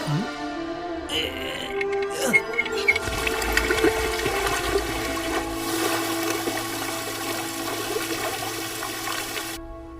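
Continuous rushing water with a low tonal hum, running steadily for the whole stretch before cutting off abruptly at the end.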